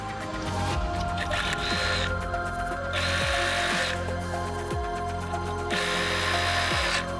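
A sewing machine stitches the side seams of a Halloween trick-or-treat bag with a steady, close mechanical whir that pauses and restarts in several runs.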